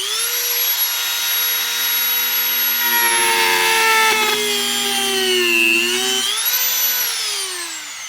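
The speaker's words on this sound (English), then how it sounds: "just cut it out with a Dremel" A Dremel rotary tool cuts into a wooden cigar box, whining at high speed with a steady tone that sags and recovers as the bit bites into the wood, loud and close with no talking.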